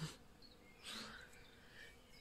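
Faint buzzing of insects like bees hums steadily in the background of a quiet outdoor setting.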